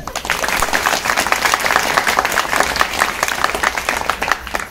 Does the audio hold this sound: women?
yes